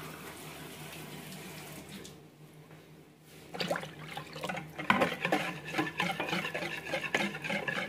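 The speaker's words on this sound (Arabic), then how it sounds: "وتقلبي كويس. وهنزل بكوبايه كبيره من الميه." Water pours from a large cup into crepe batter made with corn or vegetable oil, followed by brisk, rhythmic whisking and stirring that grows louder and splashy toward the end, with no talking.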